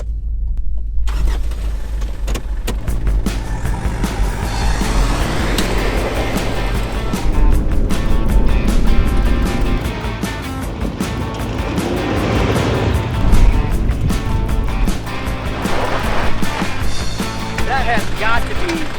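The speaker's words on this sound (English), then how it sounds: "That has got to be the best four-wheel drive van that I've ever driven." A Mitsubishi Delica L400 four-wheel drive campervan drives on, with steady engine and road rumble heard from inside the cabin and rattles and bumps over rough ground. The noise runs loud and continuous for the whole stretch.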